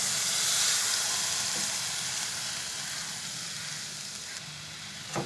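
Masala fried slowly in oil for a pointed gourd korma sizzles loudly and steadily as prepared milk goes into the pan, a dense close hiss that fades slightly over several seconds.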